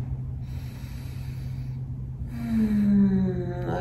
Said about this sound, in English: We'll take a few breaths here.